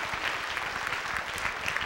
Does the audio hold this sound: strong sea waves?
no